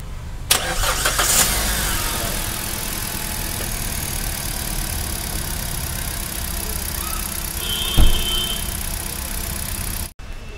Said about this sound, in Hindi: मैं इसको एक बार आपको स्टार्ट करके मैं इसको दिखाता हूँ आपको, अब इंजन का साउंड भी सुन सकते हैं,